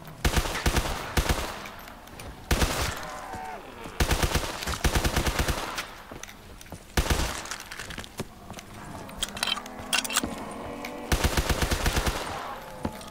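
Machine gun bursts in a video game rattle out in repeated loud volleys, several sustained strings of rapid shots separated by short gaps, with glassy crashes and noisy clatter mixed in.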